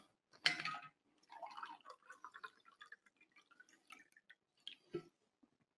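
Water trickles and drips into a glass, quiet and close, with a few small clinks and gurgles in an otherwise still room.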